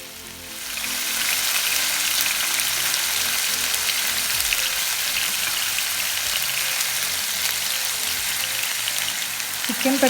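Chicken pieces for pepper chicken fry hit hot oil in a tawa over a very low flame, setting off a loud, dense, steady sizzle that swells within the first second and crackles on without pause until the end, with no talking over it.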